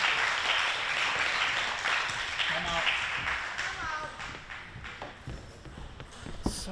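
Crowd applause and cheering roar steadily through a 2025 Pan American Cup semifinal after a long rally, loud and dense, slowly easing off while a commentator talks over it.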